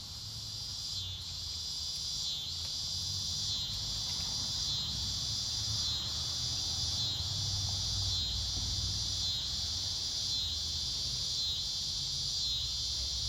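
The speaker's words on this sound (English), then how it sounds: "I really hope that fucking cicada up there is not too loud for the camera" A cicada buzzes steadily from a tree overhead outdoors, a loud, sustained high drone pulsing in regular waves with no other sounds.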